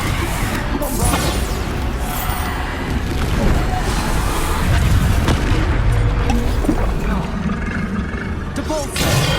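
Repeated booming spell blasts from Hogwarts Legacy combat, the Bombarda explosion landing amid a dense, continuous clamor of impacts and crashes across the whole stretch, with voices mixed in.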